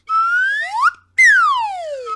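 A slide whistle plays two loud, close sweeping notes: the first rises in pitch, then after a brief gap the second glides steadily downward.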